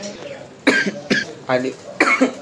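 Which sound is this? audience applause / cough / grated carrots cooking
cough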